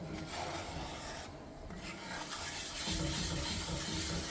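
Scraping, rasping strokes of a utensil stirring tomato gravy in bacon grease in a pan, continuous rubbing and swishing close up, steady and fairly quiet with no talking.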